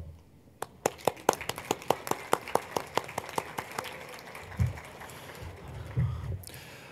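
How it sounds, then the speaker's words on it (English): Sparse, scattered claps from a small forum audience applauding themselves, at first a few distinct claps that build into a thin round of applause, then fade, with brief low thumps near the end. "I think you should all give yourselves a round of applause"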